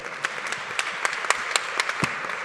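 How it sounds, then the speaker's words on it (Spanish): An indoor audience at a university magazine launch claps, a brief burst of scattered, fairly close hand claps with sharp individual slaps. "Un aplauso para Lorena, por favor"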